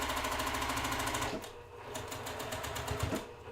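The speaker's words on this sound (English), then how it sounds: "So sewing now, a 1/4 inch away, and you'll see me like slow down as I get to a pin." A sewing machine stitches a quarter-inch seam through pinned fabric, its rapid needle chatter running steadily, then easing off briefly at a pin and picking back up to a regular fast rhythm, close and alone.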